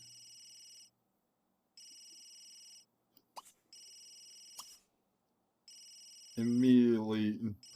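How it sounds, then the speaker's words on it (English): A telephone rings in The Sims 3, three evenly spaced electronic trill bursts separated by pauses, clean and mid-level, with a couple of soft clicks between them and a brief Simlish voice starting at the end. "Quentin's getting a phone call."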